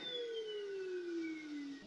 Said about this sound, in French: je vais aspirer tout avec un aspirateur à filtre HEPA qui permet de retenir les particules très fines